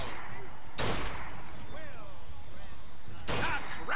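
Two gunshots about two and a half seconds apart at a shooting gallery in the video game BioShock Infinite, each a loud, sharp crack with ringing metallic tails, amid game voices and ambient sound.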